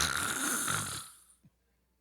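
A single loud snore, breathy and rasping, that trails off and fades into near silence with a faint brief sound just after.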